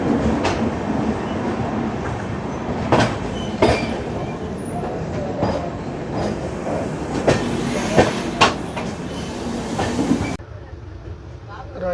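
The Secunderabad–Raipur Express running loud and near at Nagpur Junction, a steady rumble with repeated wheel clacks on the rails that drops sharply near the end, and a voice faintly heard beneath.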